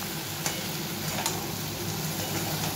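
Fried lentil dumplings (bori) being stirred into a pan of chorchori, a steady close sizzle of hot oil broken by a few soft scraping strokes of the spoon, with no talking.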